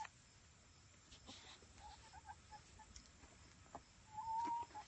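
Hens cluck and murmur softly and sparsely at a faint, quiet level, with one brief higher note near the end.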